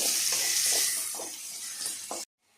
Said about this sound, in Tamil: இப்போ வந்து நல்லா வந்து வதங்கி வரட்டு வெங்காயம்